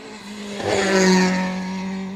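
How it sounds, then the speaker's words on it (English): Ford Escort rally car on a rally stage, its engine swelling loudly as it approaches and passes close by, revving with a steady harmonic drone, no talking. "Another Escort twitching its way towards us."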